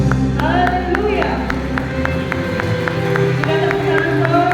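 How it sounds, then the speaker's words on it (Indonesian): A church congregation claps and cheers loudly during a worship service, the dense crowd noise running steadily over music and voices. "Kita tepuk tangan sorak-sorai bagi Tuhan kita Yesus Kristus."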